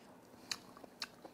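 Someone chews pasta made with horned turban shell, a few soft crunchy bites and wet mouth clicks, close and quiet.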